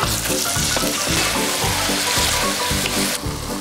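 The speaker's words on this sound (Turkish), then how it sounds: "Piyazlık doğradığımız soğanları ekliyoruz. Karamelize oluncaya kadar kavuruyoruz." Chopped onions caramelize in butter and oil for French onion soup with a loud, steady sizzle, while a spoon stirs the pan rhythmically underneath.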